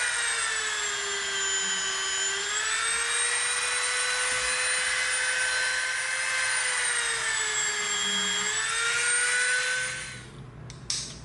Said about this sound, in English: now we're going to come in with our Dremel. We're going to put a slightly larger bit on here.